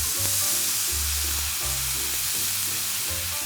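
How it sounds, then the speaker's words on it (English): Pan deglazed with rice wine vinegar, giving a loud, steady close sizzle with bubbling and frying crackle throughout, alone with no talk. "Deglaze with a little rice wine vinegar now."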